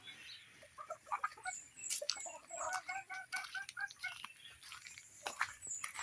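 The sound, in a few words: chickens clucking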